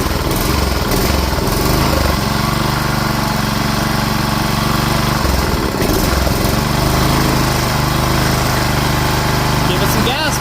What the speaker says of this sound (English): And then this is your throttle. See if it revs up.